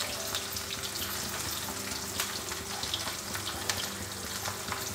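Chopped onions and garlic fry on a high flame for Bengali-style khichuri, giving a busy, steady sizzle and crackle at moderate level with scattered small pops and no speech.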